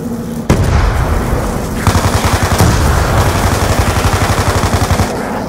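Rapid automatic gunfire in Call of Duty: Black Ops 2 Zombies, loud sustained bursts of fast shots after a sharp opening blast, dense and continuous with brief pauses between volleys.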